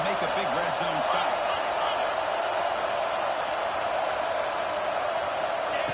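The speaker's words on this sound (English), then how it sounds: "here comes the noise. This crowd is trying to inspire this defense to make a big red zone stop" Stadium crowd roar in a football video game, a steady loud wash of cheering and noise throughout, with brief higher shouts near the start.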